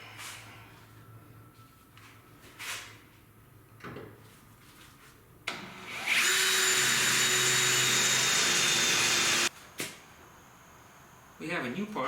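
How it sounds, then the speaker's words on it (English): Drill whining on metal during rust repair on a VW Bay Window bus, a loud sustained burst of about three seconds midway, with quieter clunks and handling noises before and after and some talk. "So just more drilling."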